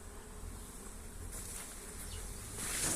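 Honeybees fly around an apiary hive during rapeseed bloom, a steady, soft, continuous buzzing hum that swells slightly louder near the end.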